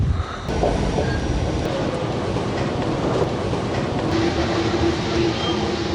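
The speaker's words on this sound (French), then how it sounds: "Métro 4, en route vers mairie de Montrouge." Paris Métro line 4 train riding toward Mairie de Montrouge, a steady loud rumble of wheels and car noise from inside the carriage with faint rail squeal, continuous throughout.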